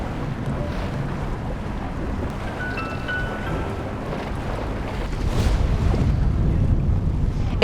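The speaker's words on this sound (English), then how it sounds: "The wind has been incredible." Wind and water noise on open water during a Wednesday night sailboat race start, a steady broadband rush that swells louder in the final seconds, with no talking.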